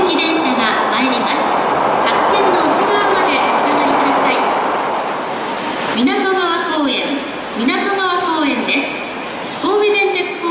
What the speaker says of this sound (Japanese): 中央行き電車が参ります。白線の内側までお下がりください。